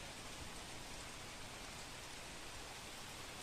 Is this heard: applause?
no